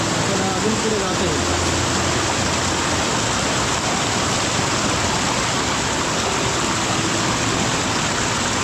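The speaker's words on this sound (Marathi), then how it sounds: "मित्रांनो, पुढे धबधबा आहे" A waterfall near Badlapur with a strong flow of water roars loud and continuous, a thick, unchanging rush filling the air close by.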